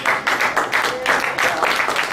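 Church congregation clapping hands in rhythm, a steady run of bright claps at a quick even beat, moderately loud and close.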